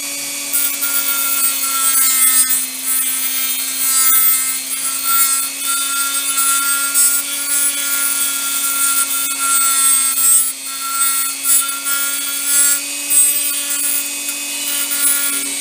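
Small rotary tool steadily grinding down the bottom of a plastic switch part for a pocket LED flashlight, a continuous high whine that wavers slightly in pitch as pressure changes, close up with no talk.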